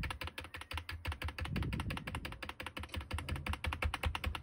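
Rapid clicking keystrokes on a USB computer keyboard connected to a Compaq Presario SR5413WM desktop, a continuous fast patter of close, crisp taps with brief irregular pauses and no talking.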